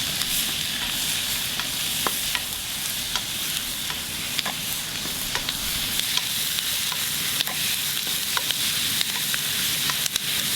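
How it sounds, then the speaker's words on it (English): Shrimp stir-frying in oyster sauce over high heat gives a loud, steady sizzle, with sharp spatula clicks and scrapes against the pan at regular intervals and no talking. "Go ahead and add in the oyster sauce. I'm using about 2 tablespoons or so. Give it a good stir."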